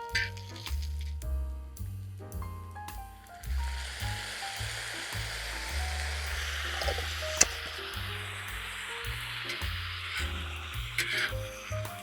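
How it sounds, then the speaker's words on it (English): Stir-fry sauce hits a hot pan of ramen noodles and vegetables and sizzles into a steady, loud hiss that carries on for several seconds, with background music playing throughout. "Now you can hear that sizzle"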